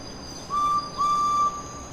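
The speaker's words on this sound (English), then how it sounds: "the guy blew his whistle, Edward set off on the slowest express train" A train guard blows a whistle twice, a short shrill blast followed by a longer one, clear and fairly close over a quiet background.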